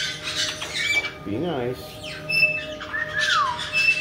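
A pet bird squawks and chirps in short bursts, with a wavering whistled call and bright tweets close to the microphone, while a person talks softly to it throughout.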